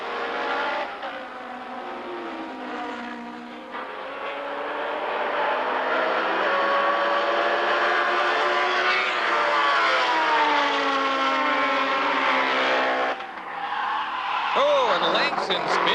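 Can-Am race cars at Lime Rock in 1985 roar past on a twisty section, their engines droning and rising and falling in pitch over a broadcast commentator's voice.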